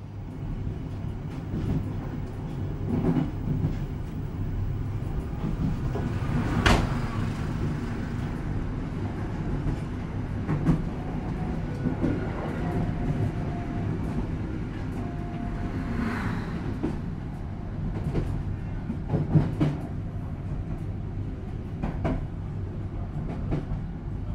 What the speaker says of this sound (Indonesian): Kereta api Pasundan yang saya naiki telah tiba di stasiun Gombong